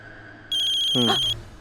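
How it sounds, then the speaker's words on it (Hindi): A short electronic phone ring sounds once for under a second, clear and fairly close, against a quiet room. "फोन।"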